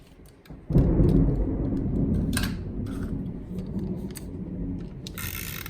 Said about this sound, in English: y'all hear my thunderstorm